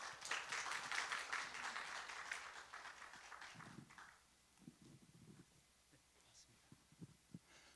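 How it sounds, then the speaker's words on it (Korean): Audience applause at a city council policy forum in a hall, loud and broadband for the first four seconds, then fading to scattered claps and light murmuring. "큰 박수 부탁드리겠습니다."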